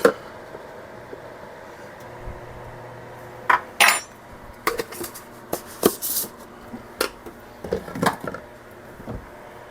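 A metal tablespoon scooping cornstarch for homemade strawberry sorbet, with sharp clinks and clatters of utensils and dishes in a kitchen, irregular bursts close by over quiet background.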